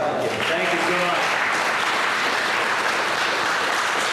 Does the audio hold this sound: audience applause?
yes